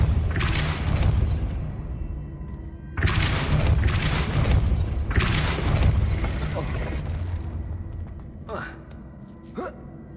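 Depulso spell casts in the Hogwarts Legacy video game, heard as several loud, booming blasts and whooshes, separated by rumbling lulls and followed by a couple of short sharp hits near the end.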